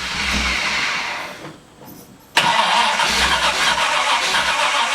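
A 1975 Pontiac Firebird Trans Am with a Pontiac 400 engine starts cold: the motor runs, dips briefly as the starter cranks, then catches sharply and settles into a loud, steady idle close by.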